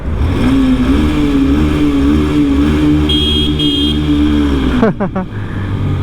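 A motorcycle is raced near the Ramboda bridge in the hill country around Nuwara Eliya, Sri Lanka, its engine loud and close, revving and droning steadily before a sharp drop near the end, with someone talking over it.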